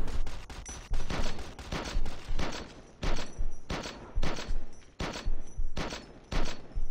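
Rapid bursts of video game gunfire in a Rogue Vegas test build, loud and close, with clustered volleys of shots repeating roughly every second and continuing throughout with no talk.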